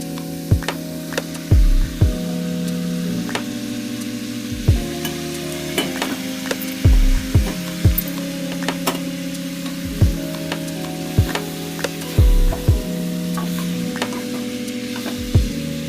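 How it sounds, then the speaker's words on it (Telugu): Onions sizzle in oil in a pan, a constant frying hiss with regular thuds and scrapes of a spoon stirring them, close by and with no talking. "ఇలా ఉల్లిపాయలు వేయించుకుంటున్నాను."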